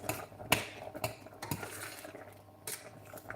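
A spoon clinks against a pot while stirring herbs into chanterelle mushroom soup: a few sharp metallic taps and scrapes spaced about half a second apart, then quieter stirring, with no talk.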